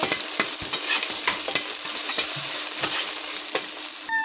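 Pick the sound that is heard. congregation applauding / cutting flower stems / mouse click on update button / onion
onion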